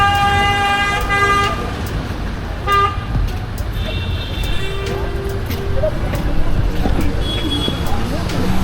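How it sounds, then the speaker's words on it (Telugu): A traffic jam in crowded Old Manali in December, with repeated car and bus horns honking over a steady roar of engines and road noise, while people talk nearby. "ఎక్కడ చూసినా ట్రాఫిక్ జామ్."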